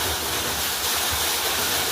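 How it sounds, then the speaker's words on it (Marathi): Water from a 5 HP Crompton solar pump motor gushes in a continuous, loud rushing flow, close by and unbroken, with no voices over it. "बघा आपल्याला इथं आता पाणी चालू होईल."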